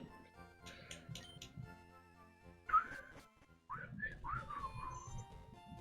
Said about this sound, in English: I gotta stop whistling directly into the mic.